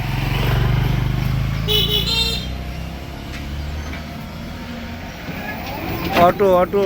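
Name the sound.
auto-rickshaw and motorcycle traffic by the Balu river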